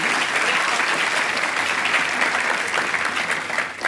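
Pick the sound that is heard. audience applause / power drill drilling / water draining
audience applause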